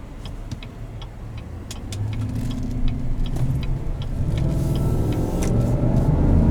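A 2017 GMC Sierra 1500 Denali pickup with a 6.2 liter V8 drives off, its engine rumbling low and building steadily louder as it accelerates, with scattered small clicks and no talk.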